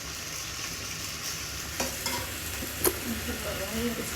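Pasta mixed with egg and salt is stirred in a frying pan, giving a steady soft sizzle broken by a few sharp scrapes and clinks of the utensil against the pan, with no voices.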